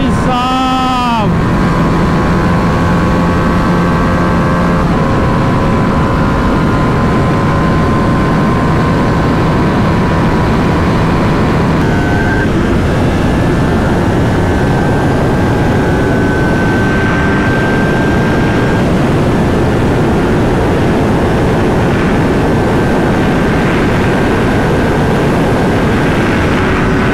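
Kawasaki Ninja 400 and 300 and TVS Apache RR310 motorcycles race together, a loud sustained engine roar with wind buffeting throughout, rising and shifting in pitch as the bikes accelerate and change gear.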